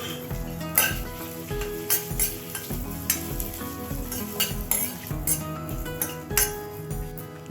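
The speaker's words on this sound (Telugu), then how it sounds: "అలాగే జీలకర్ర కూడా వేసేసుకుని వేయించుకుందాం, దోరగా వేయించుకుందాం." Cumin seeds and dried red chilies sizzle in hot oil in a pan for bitter gourd fry, with steady frying hiss broken by repeated clinks and scrapes of a spoon stirring against the metal.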